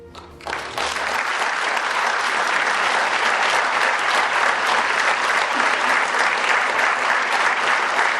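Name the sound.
audience applause at a gala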